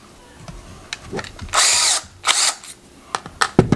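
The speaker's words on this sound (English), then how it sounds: "You just have to drill a hole in the top of these." A power drill whirs loudly in two short bursts, drilling a hole in the top of a plastic spray cap, with faint clicks and handling noises around them.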